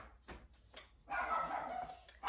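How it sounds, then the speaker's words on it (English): Dog barking excitedly indoors, a few sharp separate barks followed by a longer burst of yipping and whining, moderately near and fairly faint overall. "my dog's going crazy"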